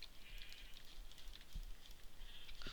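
A Minecraft sheep bleats faintly amid soft clicks and light background noise, the calls thin and wavering.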